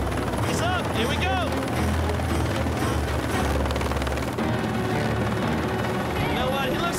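A helicopter hovers overhead during a stunt in which a contestant climbs from a moving truck up a ladder into the chopper; dense continuous rotor thrum and roar, loud and steady, with people talking over it.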